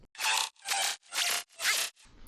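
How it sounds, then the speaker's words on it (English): Four rhythmic bursts of gritty, glitchy, dubstep-like synthesized delay-effect noise in a house music drop, evenly spaced and loud, followed by a fainter trailing fragment. "And then we have like this weird glitchy sound."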